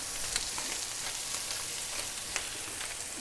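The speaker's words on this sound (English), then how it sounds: "I'm going to throw the tomatoes in with the mushrooms just to get a quick blister on those." Tomatoes and mushrooms sizzle and fry in a hot pan, a dense, steady crackle with occasional small pops, close and continuous.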